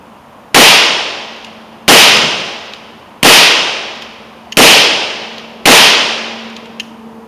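Five loud handgun shots at a shooting range, evenly spaced about a second and a half apart, each a sharp close crack with a short ringing decay, and no talk between them.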